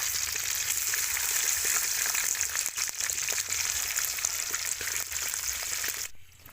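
Fish frying in a pan of hot oil, a steady dense crackling sizzle held close and loud for about six seconds, then cut off abruptly, with no voices over it.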